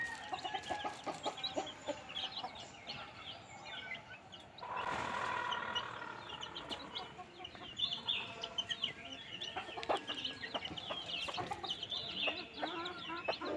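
Free-ranging multicolored rooster and hens in rainy Konkan countryside near Guhagar, Ratnagiri, cluck and chirp in scattered short calls, fairly close, with a louder burst of clucking midway.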